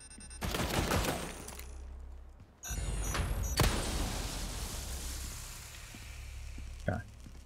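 Rapid automatic turret fire in Resident Evil 4 (2023), bursts of dense gunfire with mechanical clatter, pausing briefly then resuming as a sustained near barrage, with a sharp crack partway through.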